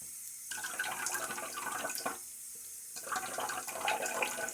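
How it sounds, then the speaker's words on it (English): Water splashing from a running tap during a wet shave with a Timeless SS .68 open-comb safety razor and Gillette Nacet blade, in two close bursts of splashing separated by a short quieter gap, with no talking. "A little splash of water."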